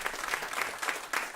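Audience gives a round of applause for a panelist at a food waste climate event, a brief burst of dense, even clapping heard alone at moderate distance.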